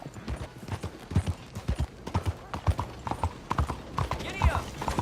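Horse hooves clip-clop at a gallop in the Red Dead Redemption 2 video game, a steady loud rhythmic beat running under frequent shouted talk and a brief whinny.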